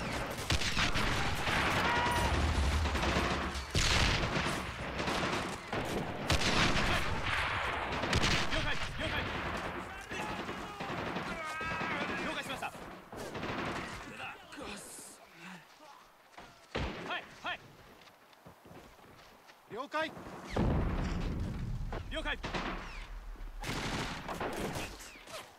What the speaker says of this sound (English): I bought a machine gun up to hold off the Rangers.